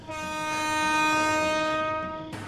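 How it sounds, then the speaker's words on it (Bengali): A train horn blares in a single sustained, close, loud tonal blast as the train starts moving again, followed by a brief rumble of rail noise at the end. "ট্রেনটা আবার চলতে শুরু করল"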